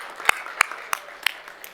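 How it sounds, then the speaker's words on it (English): At a startup conference, a few sharp, evenly spaced claps ring out, about five in under two seconds, sparse and crisp against a quiet room. "Let's give the break a round of applause."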